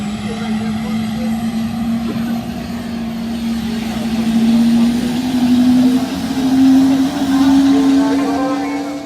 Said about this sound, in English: We're about to go up in the air at the helicopter.